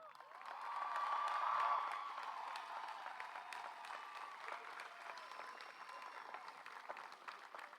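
A school commencement crowd applauds graduating students, sustained clapping with scattered cheers swelling over the first two seconds, then settling into a steady, moderately loud ovation that continues to the end.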